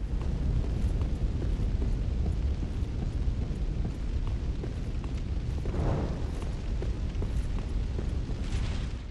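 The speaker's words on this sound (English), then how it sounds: "Just set the whole church on fire." Roaring fire engulfing a church in the Dark Souls III video game, a dense steady rumble with crackling bursts and booms throughout, loud and continuous with no talking.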